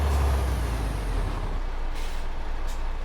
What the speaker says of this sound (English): Again, very, very reminiscent of the DAF air brake or engine brake.